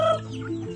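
Farmyard chickens in a rural Philippine province cluck at feeding time in the morning, a short, close burst of clucking over low background noise.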